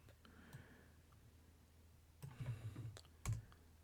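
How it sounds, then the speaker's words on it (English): Faint computer keyboard typing while entering C++ practice code, with soft scattered clicks early on and then a short louder burst of keystrokes later, alone over quiet room noise. "so I have to keep typing in the other stuff"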